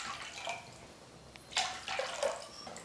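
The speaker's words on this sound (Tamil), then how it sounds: "3-4 நிமிஷத்துக்கு பைனாப்பிளை நெய்யிலே நல்லா வதக்குனதுக்கு அப்புறம் தண்ணி சேர்த்துக்கலாம்." Water is poured into pineapple that has been sautéed in ghee, a soft splashing and trickling that starts quietly and rises in a few louder bursts, with no talk over it.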